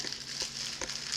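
Crinkly plastic rustling from a dog's birthday toy, a fairly continuous papery crackle with a few sharper crunches, quiet and in the background.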